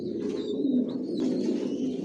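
Racer pigeons in a loft, including a breeding pair with the hen sitting on eggs, coo in a continuous low, throaty rumble close by, with a thin high whistle-like tone drifting above it.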